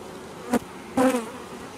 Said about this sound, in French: c'est de l'abeille noire hein, de la région. Elles sont pas très agressives.